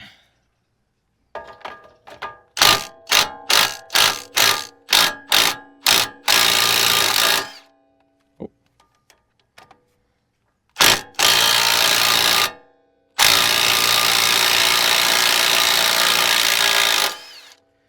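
A power tool hammers in rapid bursts removing a suspension bolt on a 4th-generation Toyota 4Runner, then runs in longer sustained whirring stretches with brief pauses between, loud and close.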